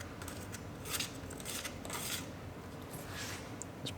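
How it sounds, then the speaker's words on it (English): Scissors or a blade snip and scrape at two-sided tape along the bottom of a car's body molding, with several short cutting and rubbing strokes, close and fairly quiet, no talking. "So we'll cut our two-sided tape off the bottom."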